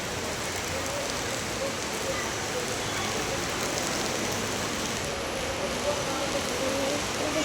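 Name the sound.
heavy rain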